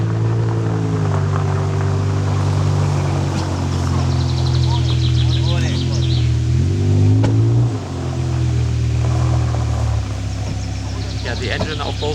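Two Porsche sports cars, one a GT3 RS, drive away with a loud, steady engine drone that shifts pitch as they pull off and fades near the end.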